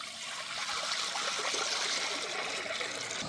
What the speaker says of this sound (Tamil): இப்போ காய்கறிங்களை வேக வைக்க போகிறோம் அதுக்கு த தண்ணி சேர்த்துக்கிறோம்